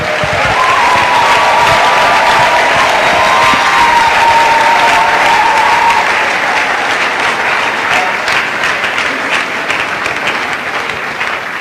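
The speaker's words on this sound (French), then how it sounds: "Acclamons, acclamons, acclamons." Sustained, loud applause with crowd cheering fills the room for a couple celebrating 31 years of marriage, steady throughout and gradually thinning toward the end.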